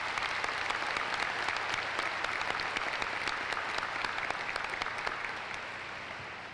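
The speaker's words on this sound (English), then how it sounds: "would you join me in giving your parents a round of applause for this support?" Graduation ceremony crowd at a WKU commencement applauding the parents, a broad, sustained roar of many hands clapping in a large hall, steady and even, easing slightly toward the end.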